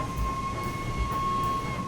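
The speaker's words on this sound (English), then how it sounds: "Well, I should say whistle, not horn." The steady whistle of the Flying Scotsman steam locomotive in Train Sim World 4, a sustained two-tone note held for about two seconds, loud and close, with no talking.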